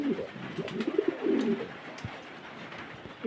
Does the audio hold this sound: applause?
no